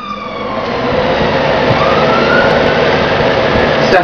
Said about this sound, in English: So that's just an ambulance going.